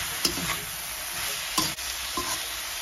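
Mung bean sprouts stir-fried in a masala pan over low to medium heat: a soft, constant sizzle with three distinct stirring scrapes of a spoon against the pan, spaced about a second apart.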